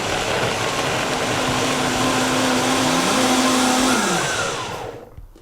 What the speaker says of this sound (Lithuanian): Malame.